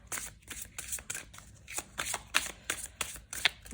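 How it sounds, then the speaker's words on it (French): Tarot cards being shuffled by hand in a steady series of about a dozen crisp riffling bursts, close and clear, with no talk. "on va mélanger, puis on va couper et regarder les cartes 2 par 2"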